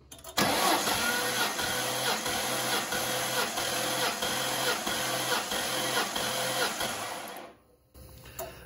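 A car engine cranks over during a compression test, a loud, even, rhythmic chugging from the starter that runs for about seven seconds and then stops abruptly.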